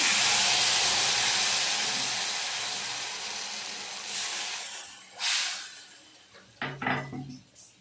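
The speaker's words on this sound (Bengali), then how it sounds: "এর মধ্যে তেঁতুল জলটা আমি দিয়ে দিচ্ছি।" Tamarind water hits a hot kadai with five-spice (panch phoron) for a sour crab curry, giving a loud steamy hiss that fades over several seconds, then a few short, sharp sizzling bursts near the end.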